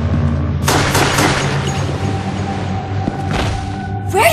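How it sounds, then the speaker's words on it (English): A quick burst of sharp gunshots rings out in the video game Resident Evil: The Darkside Chronicles, followed by scattered echoing shots and a sudden crack at the end. "Gunshot! Back there!"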